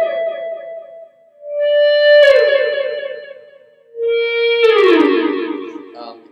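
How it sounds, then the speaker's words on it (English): Sustained EBow guitar tones fed through a delay pedal and a Fender amp swell in as two long gliding, whale-like phrases, with bright echoing repeats trailing each note, loud and alone. "I'll combine an EBow with a delay pedal"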